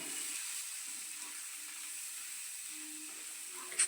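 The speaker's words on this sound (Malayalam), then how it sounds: "ഇഞ്ചിയും വെളുത്തുള്ളിയും നല്ലോണം മൂത്തതിന് ശേഷം സവാള നീളത്തിലരിഞ്ഞത് ഇതിലേക്ക് ഇട്ടൊന്ന് ഇളക്കി കൊടുക്കാം" Sliced onions go into a pan of fried ginger and garlic for a Kerala-style prawn roast, giving a steady, moderate sizzle with faint stirring scrapes and a brief clink at the end.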